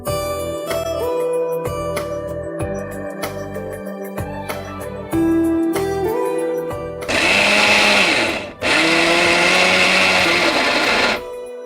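Mixer grinder grinding roasted moong dal for halwa, two loud close bursts of high-pitched motor whine separated by a brief pause, preceded by background music.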